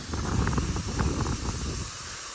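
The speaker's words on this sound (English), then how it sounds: "So let's go over and give this tire a rinse off." A water hose sprays and rinses a dirty car tire, a close hissing wash with a splattering low rumble for about two seconds before easing off.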